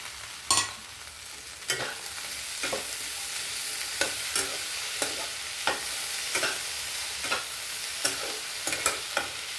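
Tomatoes fry in a pan for an okra curry, a steady bright sizzle punctuated by sharp scraping stirs at irregular intervals, close and fairly quiet.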